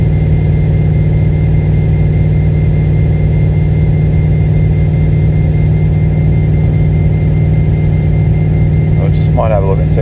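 Holden VZ with an LS1 V8 running on dyno rollers with cold tyres, a steady loud low engine drone and whir held throughout, with a brief voice near the end.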